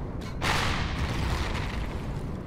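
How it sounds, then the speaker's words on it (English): A burst of explosion noise in the space survival game Empyrion Galactic Survival: a sharp onset followed by sustained loud, dense rumbling blasts during combat with laser turrets, close and continuous. "Multiple explosions detected."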